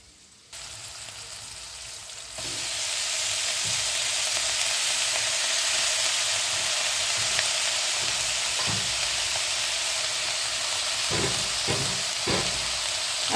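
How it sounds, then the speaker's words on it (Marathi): Cleaned green chickpea leaves hit a hot frying pan, setting off a loud, steady sizzle and hiss that holds throughout, with a few stirring scrapes near the end. "आता ही जी आपण भाजी स्वच्छ करून ठेवलेली आहे ही आपण टाकूया"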